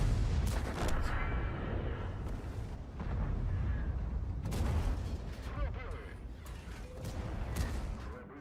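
Artillery and tank gunfire boom in World of Tanks, with repeated heavy blasts and rumbling explosions at a steady pace under a voice talking throughout.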